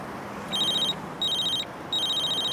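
A telephone rings three times in bright electronic trilling bursts, each about half a second long and separated by short gaps, over a background hiss.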